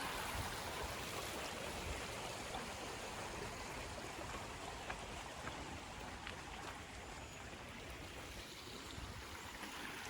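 A creek at Canoe Creek State Park, Pennsylvania, flows beneath a big metal bridge near old lime kilns, giving a continuous, even rush of water that stays unbroken throughout.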